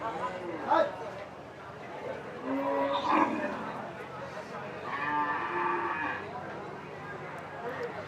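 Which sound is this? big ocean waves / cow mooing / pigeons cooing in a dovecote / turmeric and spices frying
cow mooing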